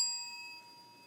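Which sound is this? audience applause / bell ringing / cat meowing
bell ringing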